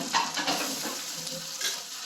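Onions and leaves frying with ground chili in oil in a pan, sizzling steadily while a spatula stirs and scrapes in a few soft bursts, close and fairly quiet, with no talking.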